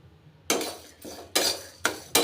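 Lentils dry-roast in a pan without oil while a metal spoon stirs them, giving four distinct scraping, rattling strokes at a steady rhythm, close and fairly loud, with no talk.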